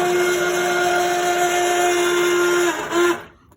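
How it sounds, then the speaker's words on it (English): A blender runs steadily, whirring as caramel is blended into homemade syrup, then slows and cuts off near the end, leaving a brief spin-down. "Just blend it for a little bit."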